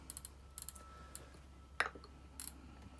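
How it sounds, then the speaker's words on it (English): Fingers tap a patient's name into a Lifepak monitor's keypad, a quiet scattering of short clicks in small bursts over a faint steady hum. "click on it, and just start typing their name in."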